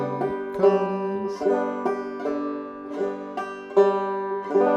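Clawhammer banjo plays She'll Be Comin' Round the Mountain, bright plucked notes in a steady bouncing rhythm with regular strums, close and clear with no voice.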